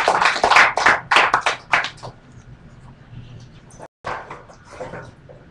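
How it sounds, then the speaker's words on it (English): An audience at an indoor tribute event claps loudly for about two seconds, then the applause thins into scattered claps before a brief silence and a few more light claps. "Give another round of applause."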